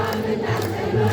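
Ethiopian church congregation ululates together during a hymn, a dense wavering crowd trill sustained and fairly loud throughout.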